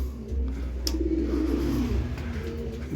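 Racing pigeons returning to their loft coo softly in low, murmuring tones, with a brief flutter or chirp, against steady outdoor background noise.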